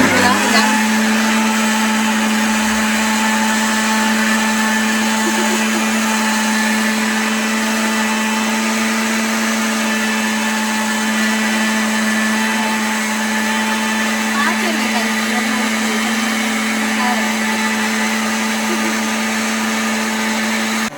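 A mixer grinder grinding masala runs loud and close for the whole stretch, a steady high whirring motor drone with a strong constant hum that never lets up.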